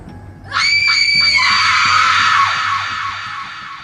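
A woman lets out a loud, sustained scream that rises sharply and holds before trailing off, set over a low, eerie background drone in a dramatized horror scene.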